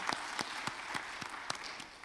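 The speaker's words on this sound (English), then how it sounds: "Let's give him a round of applause." A room of people at a US–Azerbaijan think tank forum applauds a speaker, steady dense clapping with sharper individual claps standing out, moderately faint and continuous throughout.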